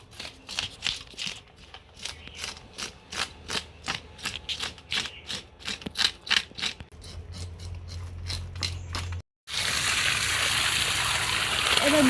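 Whole rohu fish, scales already removed, sloshed and rinsed in water with rhythmic splashing strokes, then a burst of steady running or pouring water toward the end, with no voices.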